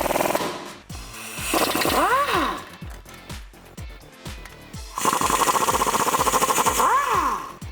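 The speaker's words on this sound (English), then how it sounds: "a ratchet or an air gun if you're working with power tools like me." A pneumatic air gun removes bolts on the front suspension of a 2004–2014 Ford F150, firing rapid hammering bursts that rattle loudly and close, with whining spin-ups and spin-downs between stretches of shop background.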